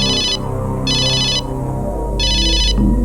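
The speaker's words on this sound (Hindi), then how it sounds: "बार बार फोन आ रहा है।" A telephone rings in repeated electronic bursts, three loud trilling rings with short gaps between them, heard close and clear over a low background hum.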